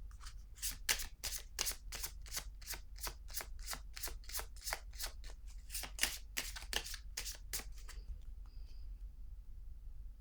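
A deck of playing cards is shuffled close by, a quick run of crisp riffling flicks in a steady rhythm that stops near the end, leaving quiet.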